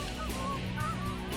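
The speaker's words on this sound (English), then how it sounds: "Boy, there's a lot of birds in the air." Geese honking overhead in flight during a goose hunt, a steady chorus of overlapping honks from several birds at moderate distance, continuous throughout with no talk.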